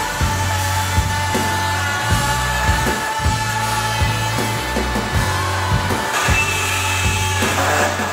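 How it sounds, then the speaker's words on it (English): A Bosch multi-tool with a Starlock blade cuts through a metal tray, producing a steady buzzing drone that continues with short breaks and changes in tone, close and loud throughout. "we're going to give the multi-tool a go with a new blade"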